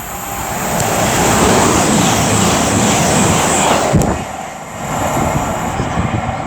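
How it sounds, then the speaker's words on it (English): Class 221 diesel train 221121 on a Plymouth to Edinburgh service passes at Tamworth with a loud, broad rumble and rolling roar that holds steady, dips briefly, then rises again as the carriages go by. "This will be 221121, working 1 Sierra 53 from Plymouth to Edinburgh."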